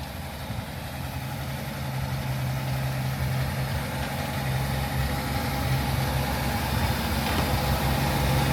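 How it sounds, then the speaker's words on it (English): A Ferrari engine idling after sitting unstarted for two weeks, a rough, steady low rumble with a constant hum that grows slightly louder toward the end, no talking. "2 weeks, I haven't started the engine. It sounds like a tractor right now."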